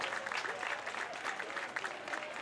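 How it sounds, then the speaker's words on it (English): A baseball crowd at the Canada Games, Manitoba versus Newfoundland and Labrador, claps steadily after a walk, a dense wash of applause at moderate distance with faint talk underneath. "So the Newfoundland Labrador crowd pretty emphatic."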